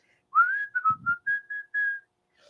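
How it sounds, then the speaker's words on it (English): One person whistles a short tune alone: a rising first note, then several brief steady notes in an uneven rhythm, clear and close against silence. "You're supposed to be whistling."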